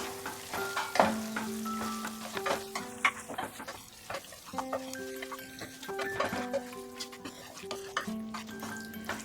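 Soy-based veg mutton pieces stirred and fried with spices in a pan make a steady sizzle broken by frequent metallic scrapes and clinks of a spatula against the pot, close by with no talk.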